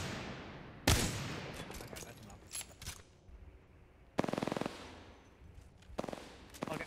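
Sharp gunfire bursts in the video game Apex Legends, a loud crack near one second and another volley around four seconds, followed by shorter shots, with faint game ambience between them.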